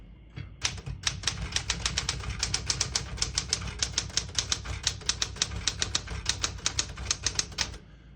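Rapid, crisp clacking of keys on a 1969 Smith-Corona Super-Sterling manual portable typewriter, a steady run of sharp strikes heard up close without any voices.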